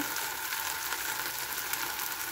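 Butter melting in a pan gives a soft, even sizzle and crackle throughout, close but fairly quiet, with no voices.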